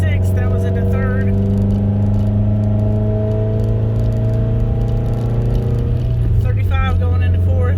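A manual-transmission car engine drones steadily under acceleration, its pitch holding high before a drop as the gearbox shifts into fourth, with a voice talking over the engine throughout.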